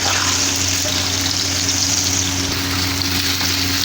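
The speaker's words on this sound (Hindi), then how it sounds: "मेरे पास किशमिश और ये बादाम है तो इनको हम फ्राई कर लेंगे" Raisins and almonds fry in hot ghee, making a steady, continuous sizzle that stays even throughout, with no talking.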